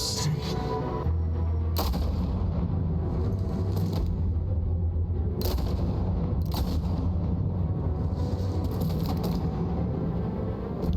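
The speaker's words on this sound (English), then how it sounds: "Gunshot, gunshot, gunshot." Gunfire in the Batman Telltale video game: several sharp, loud shots come in irregular bursts over a low, rumbling game soundtrack, with no voices.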